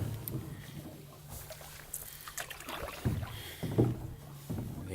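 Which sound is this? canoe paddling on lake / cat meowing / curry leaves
canoe paddling on lake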